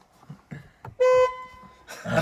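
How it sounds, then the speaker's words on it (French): A car horn blaring in a single sustained honk of about a quarter second, loud and close inside the car, set between scattered soft knocks and movement noise. "Et moi je klaxonne là où il y a le signe Il faut klaxon."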